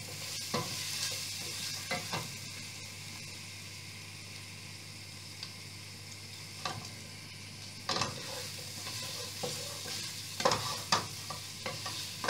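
Spices sauteing in a pan for chicken kebuli rice, a quiet ongoing sizzle broken by scattered scraping stirs and clinks of a utensil against the pan at irregular moments.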